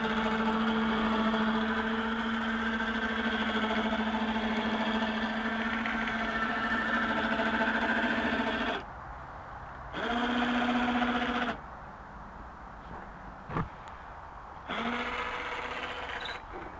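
A motor in a honey beekeeping setup runs steadily under load, its close, humming whine holding for about nine seconds, then cutting out and restarting in short bursts with brief gaps between them.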